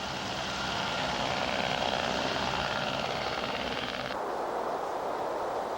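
An aircraft on a flight-seeing tour drones steadily with a constant engine and propeller roar, loud and continuous, its higher tones dropping away near the end.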